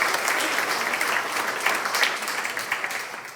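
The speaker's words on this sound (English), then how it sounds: "Give them a round of applause." Audience applause at a bear safety talk, a steady dense wash of many hands clapping at close range, sustained throughout and fading slightly toward the end.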